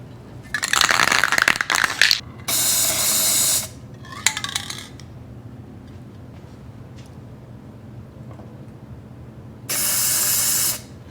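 Short hissing bursts of aerosol spray paint onto a car roof with leftover paint, several close bursts of about one to two seconds each separated by quiet pauses, on a Subaru Legacy wagon.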